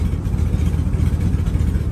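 A 2019 Ford E350 van engine idles steadily with a rough, puttering exhaust note from an exhaust leak at the passenger-side pipe near the manifold collector, close and continuous, no voices.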